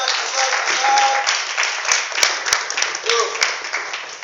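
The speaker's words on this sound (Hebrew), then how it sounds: "מגיע להם כפיים חזק." Group of students clapping for new yellow belts, brisk uneven hand claps that start dense and thin into separate sharp claps, with a voice talking over them.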